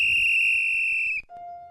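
A referee-style whistle gives one long, loud, steady shrill blast that cuts off abruptly, followed by a brief lower tone.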